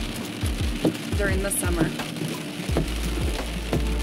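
Monsoon rain falling in Leadville during the summer, a steady broadband patter of drops with low rumbling gusts, heard under a person talking.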